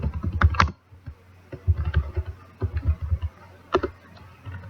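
Typing on a computer keyboard, with close, distinct key clicks in quick uneven bursts separated by short pauses, no voices over it.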